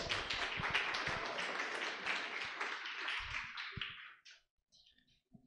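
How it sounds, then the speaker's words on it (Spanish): A small audience at a developer meetup claps, a close, fairly quiet patter of hands that fades out and stops before the end, leaving near silence. "Otro aplauso, por favor."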